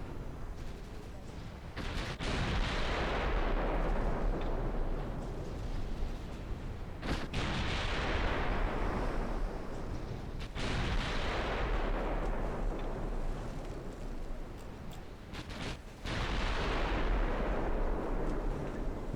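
Artillery shells in a war strategy game fire and land as a string of heavy booming blasts, each followed by a long rumbling decay, arriving every few seconds and overlapping into a continuous roar.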